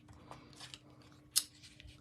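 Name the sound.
scissors cutting squares in half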